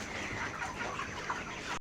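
A crowd of large broiler chickens, grown to around four kilos, clucking steadily at feeding time as fresh feed is poured out, a dense continuous murmur of overlapping calls that cuts off abruptly at the end.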